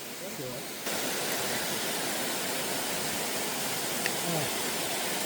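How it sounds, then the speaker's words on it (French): Steady broadband rush of falling water fills the clip, constant and fairly close, with no voices heard. "Ah, regarde, Antoine, c'est la cascade."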